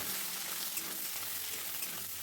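Dry red chillies and whole cumin sizzling in hot oil, a soft continuous crackling hiss with faint spits, near but fairly quiet, with no talking.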